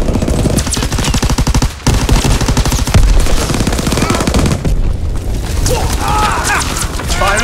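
Automatic and rapid rifle fire rattles steadily through a World War II multiplayer battle in Call of Duty WWII, with dense bursts, heavy thuds and an abrupt brief pause, while game voice callouts sound beneath the din.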